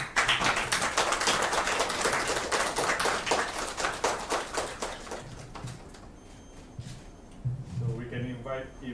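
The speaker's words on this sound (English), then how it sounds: "Please give a round of applause" Applause at a formal ceremony for a group photo session, steady clapping that fades out, followed by a faint voice and low background sounds.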